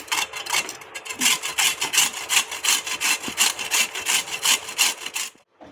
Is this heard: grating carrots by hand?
yes